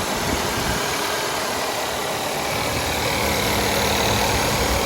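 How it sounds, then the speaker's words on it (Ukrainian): Volkswagen Passat B8 engine idling smoothly and steadily, a continuous even hum with low rumble and no roughness, close by with no talking. "двигун працює гарно, завівся гарно"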